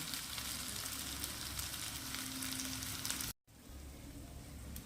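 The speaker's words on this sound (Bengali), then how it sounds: "অনেক সময় ধরে এটা ভাজতে হয়" Fish-oil fritters made from katla fish fat fry in a pan with a steady close sizzle that runs unbroken, stops for a split second, then carries on.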